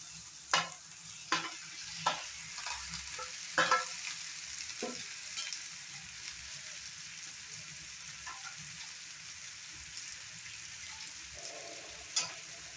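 Marinated potato and egg go into a pan of fried onion and tomato, starting a hissing sizzle. A spoon clatters and scrapes several times early on, and the frying then settles to a quieter steady crackle with no voices.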